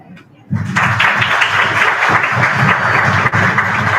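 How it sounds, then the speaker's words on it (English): Applause at a UX design meetup in Central India for a design studio founder, bursting in suddenly after a brief quiet moment and then holding as a dense, close clatter of clapping hands, with faint murmuring mixed in. "I think he should get an applause"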